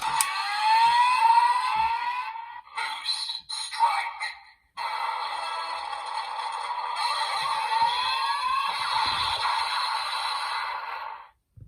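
Electronic toy sound effects blare loudly from a Kamen Rider Geats DX Desire Driver belt with boost buckle, throttle twisted once: rising siren-like sweeps, a few choppy bursts, then a long sustained buzzing whine before cutting off.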